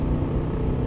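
A truck's air brake hisses on a road, a steady broadband rush under low traffic rumble lasting the whole moment, heard from nearby while riding.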